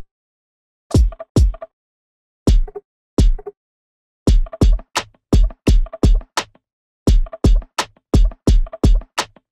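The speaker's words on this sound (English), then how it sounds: "So now we're kind of getting this cool pitch effect." Drum sample in Ableton Live shaped by a pitch envelope, so each hit drops quickly in pitch. Short punchy hits come in uneven rhythmic bursts separated by silent gaps, close and fairly loud, with no voice.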